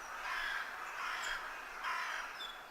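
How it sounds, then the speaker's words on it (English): Crows cawing in the game Walk Sim, three spaced rasping calls over a soft airy ambient wash, fairly faint and without any talking. "I can hear the birds cawing and chirping"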